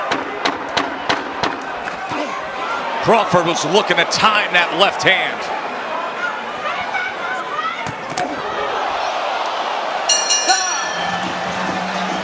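Crowd buzz in an arena during a boxing title fight between Terence Crawford and Kavaliauskas, a loud rumbling murmur with sharp thuds and shouts, under steady ringside commentary.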